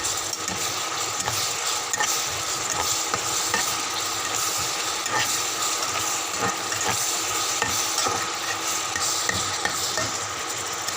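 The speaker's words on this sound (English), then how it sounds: "So these onions are frying." Onions sizzle and fry in a pan for an Andhra-style fish masala curry, a steady close crackle with occasional stirring scrapes and no talking.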